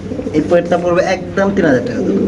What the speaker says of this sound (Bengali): এখানে আছে আরেক জোড়া কবুতর